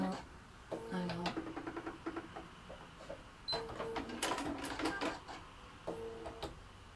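A home sewing machine set to a short stitch length runs in several quick stop-start bursts of rapid mechanical whirring and clicking, fairly quiet in an indoor room, with brief pauses between the runs.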